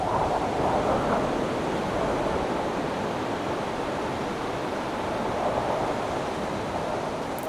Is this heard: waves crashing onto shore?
yes